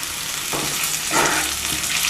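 Potatoes and chickpeas sauté in a pan with salt, giving a steady sizzle and occasional stirring scrapes, close and moderately loud with no talk.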